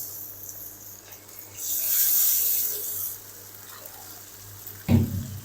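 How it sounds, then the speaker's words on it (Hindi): Water splashes and hisses into a hot karahi of cooking beef mince for about a second and a half, followed by quieter sizzling and a short clatter near the end. "तो अब हम इसके अंदर ऐड करेंगे तकरीबन 1 कप पानी"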